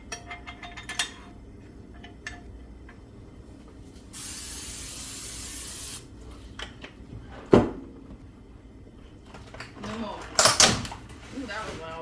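Cooking spray hisses from a can onto freezer breakfast sandwiches in a quiet kitchen, one steady burst of about two seconds, followed later by sharper clattering bumps.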